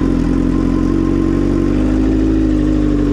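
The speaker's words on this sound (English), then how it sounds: "Today I'm going to be practicing some wheelies on my 2008 CBR 1000." A 2008 Honda CBR 1000 sportbike holds a loud, close, steady engine drone with a slight mechanical clatter during wheelie practice, with no talk over it.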